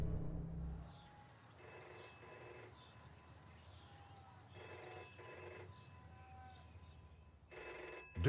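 An old-style telephone bell rings in three separate bursts, each a bright metallic trill, spaced by quieter gaps with a faint low rumble.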